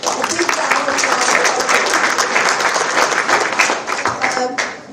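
A conference audience at a valedictory session claps in loud, dense and sustained applause that holds steady for several seconds and eases slightly at the end.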